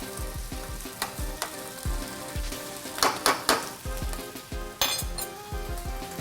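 A veal dish sizzles and fries in a hot pan over raised heat, with steady crackling broken by bursts of stirring and metallic clinks of utensil against pan.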